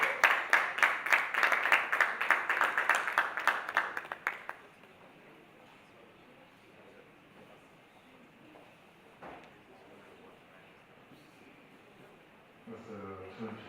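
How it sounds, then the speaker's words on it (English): A conference audience gives a speaker a short round of quick, even applause that stops after about four seconds. Quiet room tone follows, and a voice begins speaking near the end. "Please, let's give him a round of applause."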